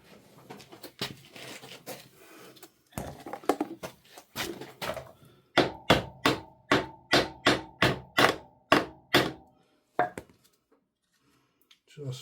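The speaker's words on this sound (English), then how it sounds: "Let me get the hammer." A run of sharp hammer blows, about a dozen evenly spaced strikes ringing with a metallic tone, preceded by shuffling, clattering handling noise.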